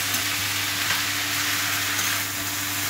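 Red amaranth leaves sizzle steadily in a hot pan with poppy seeds, a continuous close frying hiss with no talking over it.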